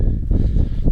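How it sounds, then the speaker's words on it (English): Wind buffets the microphone outdoors on a windy, rainy day at a farmhouse porch build, a continuous low rumble with gusty swells throughout. "Sorry about the wind, guys. It's just windy and rain for days."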